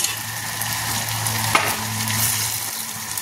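Pork with water hyacinth cooks in a pan with a steady, close sizzle and gentle crackle throughout, broken once by a brief clink of a utensil against the pan.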